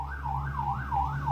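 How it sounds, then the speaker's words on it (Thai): An emergency siren wails outside, a rising and falling tone that sweeps smoothly and steadily over a low constant hum, loud and continuous through the brief moment. "เสียงไซเรน"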